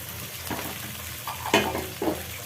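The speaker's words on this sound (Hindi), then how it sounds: "अब इसमें जो हम आलू बॉयल करके रखे थे उसको डाल देंगे" Boiled potatoes drop into a pan of frying samosa masala and get stirred, a low background sizzle broken by a few close scraping and thudding spatula strokes spaced about half a second apart.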